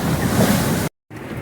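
Sea spray and waves wash over a sailing yacht, reefed on starboard tack in strong wind, as a loud rushing roar with heavy wind buffeting the microphone, then a sudden brief cut to silence before quieter rushing resumes.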